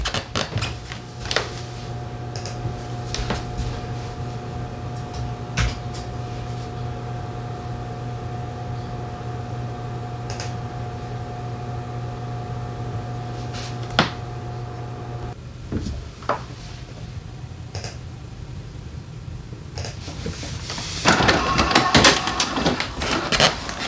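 An inkjet-style printer running off a custom printed envelope, mechanical whirring and clicking carriage passes repeating steadily, with a louder burst of feeding or ejecting near the end.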